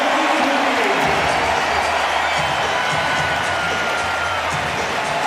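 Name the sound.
basketball arena crowd cheering, Raptors vs Nuggets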